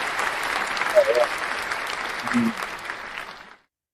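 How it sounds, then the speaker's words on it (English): A round of applause from a small group at a live day-trading stream, steady clapping for about three and a half seconds before stopping abruptly. "So, a round of applause"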